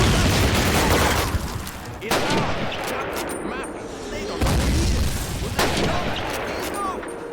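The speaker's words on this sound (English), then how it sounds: "we're essentially getting hit by our own artillery" Friendly artillery shelling in Call of Duty (the original game), with heavy booming impacts landing roughly every one to two seconds over a constant roar of battlefield noise. Loud, close blasts with rumbling tails and scattered crackling fire between them.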